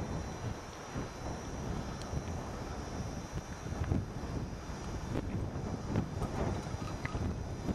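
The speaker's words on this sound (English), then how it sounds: "It's windy up here." Steady wind gusts buffet the microphone, a broad rushing roar that swells and dips without pause, high up in Arches National Park.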